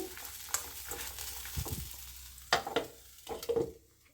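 Spinach and drumstick leaves simmering in a covered pan give a soft, low bubbling and faint sizzle, broken by a few brief clinks and bumps from the pan.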